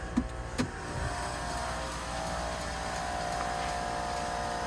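A vehicle fitted with a lift kit raises its suspension to extended height: a couple of sharp clicks, then a steady, even motor whine that holds close and constant with no talking.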